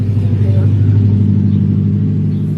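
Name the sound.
loud car driving past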